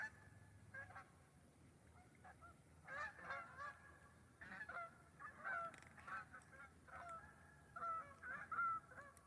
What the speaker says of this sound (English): Some Canada geese calling.